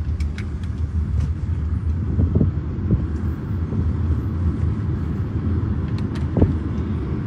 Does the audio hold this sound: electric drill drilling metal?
no